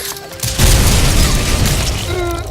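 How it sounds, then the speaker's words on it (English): Mortar shells exploding in the shooter game Rise and Shine produce a loud, close, heavy boom that swells into a sustained rumbling roar lasting a couple of seconds. "Oh, the mortars insta-kill me."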